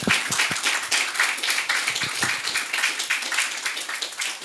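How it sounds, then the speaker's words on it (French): A crowd applauding steadily at a conference event, dense clapping sustained throughout at a fairly loud, even level. "Aidez-moi à recevoir avec des applaudissements bien nourris Monsieur Saïd Hamzil."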